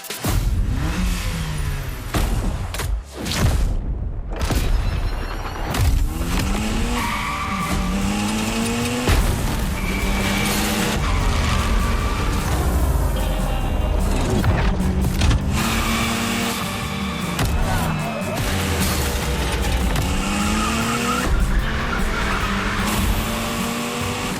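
Mitsubishi Evo 9 in The Crew Motorfest gymkhana driving, loud sustained tire squeal and skidding over a revving engine that rises and falls through gear changes, continuous and close for the whole stretch.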